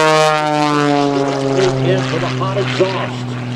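A propeller aircraft at the 2017 New York Airshow drones steadily and loud overhead, its engine hum holding a constant pitch while someone talks over it.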